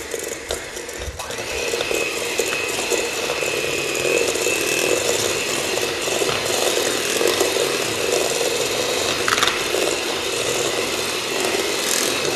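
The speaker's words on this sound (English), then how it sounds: "I'm just gonna grab my hand mixer" An electric hand mixer beats cream cheese, spices and sugar in a stand mixer bowl, a steady whirring and rattling drone lasting throughout, fairly close and uninterrupted by talk.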